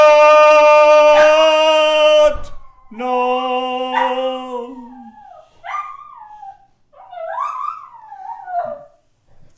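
A dog howls in long, rising and falling wails, broken into whimpering, yipping phrases toward the end, loud and close with short gaps of silence between calls.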